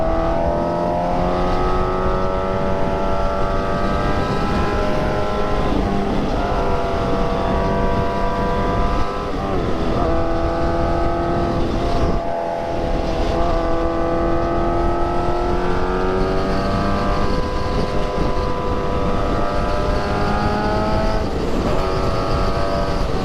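A motorcycle cruising and accelerating on highway 385 on a sunny day, engine tone rising and falling through gear changes, loud and close throughout with steady wind and road roar.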